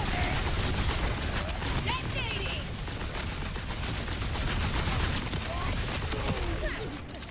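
Dense, continuous bursts of shotgun fire in the video game Borderlands 4, rapid overlapping blasts mixed with game effects, loud and steady throughout with faint speech beneath.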